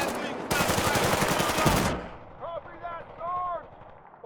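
Artillery fire mission in Battlefield Bad Company 2, a loud dense roar of explosive barrage lasting about one and a half seconds, then fading into lower rumble with a voice speaking briefly afterward.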